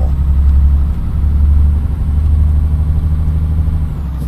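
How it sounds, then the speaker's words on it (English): A heavy truck engine strains uphill in the driving game Euro Truck Simulator 2, producing a loud, continuous low drone that holds steady with slight surges and no talk over it. "why this truck is having so much trouble going up the hill."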